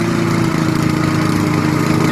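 A lawnmower engine runs at a steady, loud, continuous drone throughout, close by, with no voices over it.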